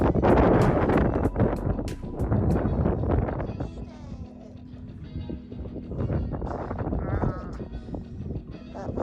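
Strong winter wind on the summit road of Pikes Peak, around -2 °C, roars and buffets steadily for the whole stretch, loud and close, with muffled voices partly under it.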